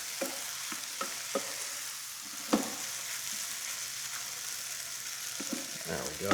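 A sauce with cider vinegar sizzles and reduces in a hot pan with a steady, soft hiss, broken by a few sharp clicks and taps of stirring.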